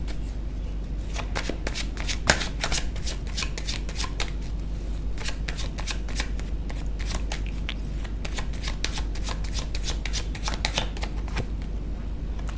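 Tarot cards riffled and shuffled steadily for several seconds, a dense run of crisp papery flicks and slaps close by, with no talking over it.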